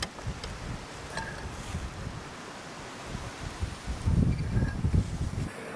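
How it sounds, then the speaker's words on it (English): Strong outdoor wind gusts buffet the microphone beside a Honda Element used for camp cooking, a rumbling, uneven roar that swells louder toward the end, with no talking. "It's so windy."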